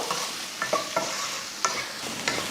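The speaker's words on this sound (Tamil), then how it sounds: "நல்லா ஒரு ரெண்டு நிமிஷத்துக்கு இந்த மாதிரி வறுத்து விட்டாச்சு" Potatoes stir-fried with masala powder on high flame, a constant soft sizzle broken by occasional ladle scrapes and taps against the pan, near and low in level, no one speaking.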